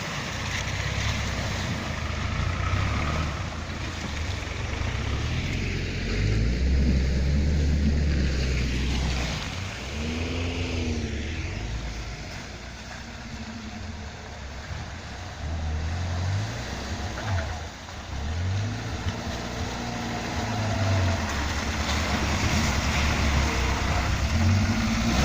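A car drives on after a wheel change, a steady low engine drone with rushing wind and road roar, rising and falling slightly as it travels, with no talk.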